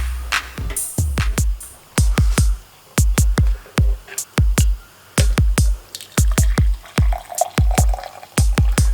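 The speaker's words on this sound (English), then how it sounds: "I'm pouring my coffee." Brewed coffee being poured, heard as a fast series of sharp, close drip-like splashes in irregular bursts, with no talking.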